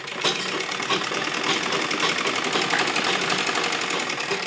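A sewing machine runs a straight line of stitching along the lining of an embroidered suit, giving a steady, continuous mechanical whir that holds at an even level from start to finish with no voices.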